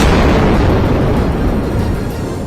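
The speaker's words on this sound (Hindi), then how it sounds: "एक धमाका तो इतना जबरदस्त था कि कान के पर्दे फट जाएं।" A massive, continuous roaring blast from rocket strikes on Gaza city at night, loud and broadband, with rumbling debris-like texture slowly fading over a couple of seconds.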